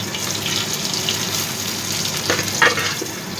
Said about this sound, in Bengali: মাছগুলো দুপাশে ভালো করে ভেজে নেব।